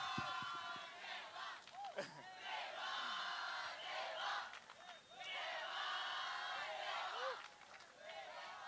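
Crowd cheering and clapping at a film teaser launch event, a loud sustained roar with whoops and shouts rising and falling over about nine seconds, with voices calling out throughout.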